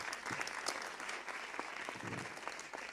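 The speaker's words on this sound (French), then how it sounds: "Applaudissez-vous, s'il vous plaît." Applause from an audience at a conference, a steady dense wash of many hands clapping that fills the room evenly from start to finish with no voices on top.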